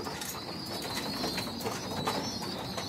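Pigeons coo softly and steadily at close range, with a faint continuous high whine behind them and no speech.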